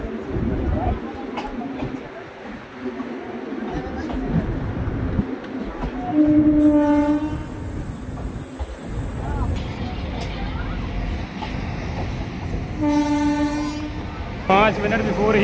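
The 19812 Etawah–Kota Express stands at Gohad Road station with a steady low rumble and two brief horn blasts, while someone talks over the scene throughout.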